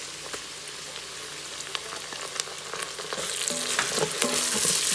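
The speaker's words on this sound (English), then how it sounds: "saute the ginger garlic paste until the raw smell goes away" Ginger garlic paste sautéing with onions in an Instant Pot while making chicken biryani: a quiet sizzle with scattered clicks of stirring that grows louder and crackles more toward the end.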